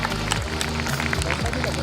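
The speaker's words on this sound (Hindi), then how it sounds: "आइए इस शानदार प्रस्तुति के लिए हमारे छात्रों को एक बार जोरदार तालियों के साथ सम्मानित किया जाए" An audience at a school annual function claps for a student dance performance, a dense patter of applause mixed with background music and murmuring voices.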